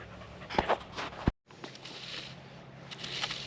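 Dogs pant in short breathy bursts close by outdoors while people dig and build a garden wildlife pond, with a sharp thud midway and steady rustling activity around them.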